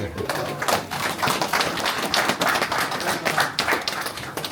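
A crowd on a Detroit real estate development bus tour claps for the team in rapid, uneven bursts of hand claps, mixed with a few voices.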